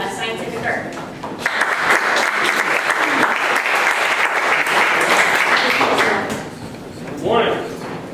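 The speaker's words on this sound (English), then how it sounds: "please give a warm round of applause for our next presenter" An audience at a 1 Million Cups startup pitch event gives a warm round of applause for the next presenter, steady dense clapping that swells, holds, then tapers off, with a voice briefly heard near the end.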